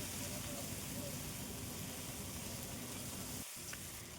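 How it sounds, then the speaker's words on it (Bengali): A paste of green chili and ginger fries in a pan for a fish curry with drumsticks and potatoes, a faint, unbroken sizzling hiss with a short break in sound near the end. "এখন মশলাটা কষিয়ে নিচ্ছি"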